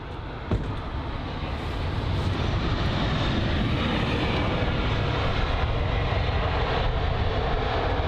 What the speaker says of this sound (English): This here is going to be the BA 320 Neo landing at runway 27 right.